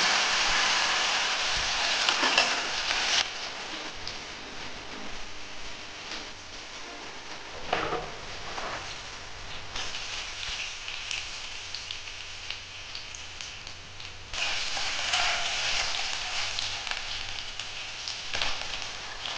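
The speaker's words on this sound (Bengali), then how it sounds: "আমি এর মধ্যে এই আলুগুলো দিয়ে ভেজে নিচ্ছি।" Potatoes sizzle in hot oil in a pan seasoned with panch phoron, a whole dry red chilli and a bay leaf, a steady crackling hiss that swells and eases in waves with a few sharp pops.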